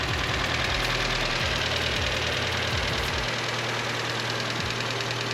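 Engine of a 1971 Datsun 521 pickup idling close by, a loud, steady rumble with a rhythmic knocking pulse throughout.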